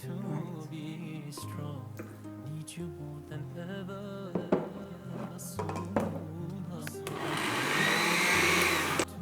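A blender whirs through dates with a little water, its motor pitch rising and falling in uneven pulses with occasional thunks, then settling into a harsher, louder grinding whir toward the end.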